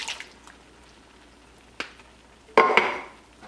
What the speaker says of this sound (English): we are going to add 28 ounces of diced tomatoes